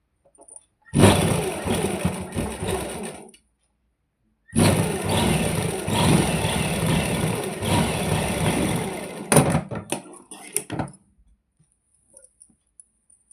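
A sewing machine stitches a pintuck into salwar fabric, its motor whirring in two steady, fairly loud runs: a short burst, a pause, then a longer stretch that ends in a few scattered clicks.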